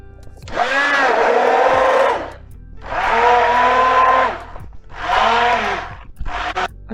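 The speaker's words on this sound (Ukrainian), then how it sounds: "треба лише його збити порожним блендером" An immersion blender purees zucchini soup in three long whirring bursts and a short final one, loud and close, with brief pauses between.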